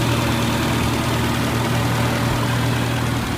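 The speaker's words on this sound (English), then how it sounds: "It's idling a little fast" A 1980 Chevy LUV pickup truck engine idles steadily, loudly and a little fast up close, a continuous low rumble with an even throb and no other sounds.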